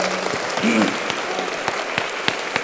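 Audience at a college convocation gives warm applause for a lion dance club, a dense, even patter of clapping close by with a voice talking briefly over it.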